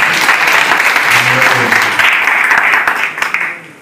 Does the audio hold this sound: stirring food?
no